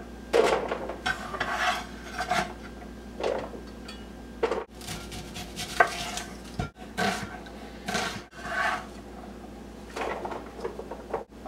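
A knife cutting peeled, seeded butternut squash into cubes on a board, a series of rasping, scraping cuts with irregular pauses and sharp knocks, close and clear with no talking.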